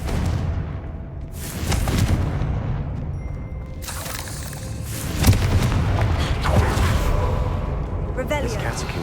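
Confringo blasting-spell explosions in the video game Hogwarts Legacy, several heavy booms and whooshing bursts over nine seconds, loud and close, with a voice talking over the action.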